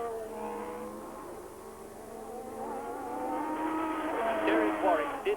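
Formula 1 cars at the 1982 San Marino Grand Prix drone past, rising and falling engine pitches sweeping across several seconds and building louder toward the end, with faint commentary underneath.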